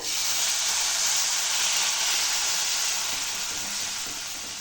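Loud, steady sizzling hiss of water hitting a hot pan while cooking a broad bean stir-fry, continuous and close, slowly easing off toward the end.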